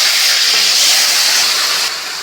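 Gunda (glue berries) dropped into hot tempering oil with asafoetida and cumin, giving a loud, close, bright sizzling hiss that holds steady and then eases slightly near the end; no talk.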